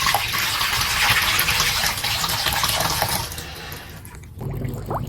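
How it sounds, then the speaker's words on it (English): Water gushes loudly while a tadpole tank is being refilled, a steady pouring rush that thins out near the end before a brief splashing burst. "I scooped them out of the tank, put them in a bowl, changed the water."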